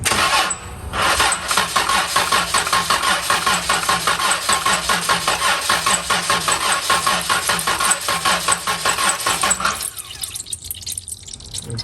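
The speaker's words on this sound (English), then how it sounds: "Let me spin it over and just let it run." An engine with its intake removed cranks over in a rapid, steady chuffing rhythm for about ten seconds, loud and close, then stops, leaving only faint residual noise.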